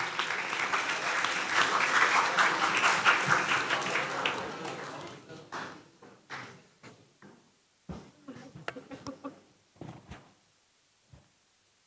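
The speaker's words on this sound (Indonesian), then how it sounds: "Kepada Ibu Dewi, kami persilahkan beri tepuk tangan yang meriah." An audience at a student campus orientation event applauds a speaker with a dense burst of clapping that gradually thins into scattered individual claps and then fades to near silence.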